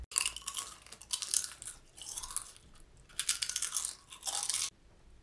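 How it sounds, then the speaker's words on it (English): Crunchy chips being chewed loudly and close up, with several bursts of sharp crackling crunches separated by short pauses. "Can you stop chewing so goddamn loud?"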